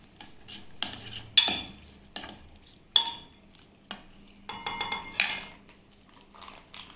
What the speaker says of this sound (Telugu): బాగా కలిపేసుకొని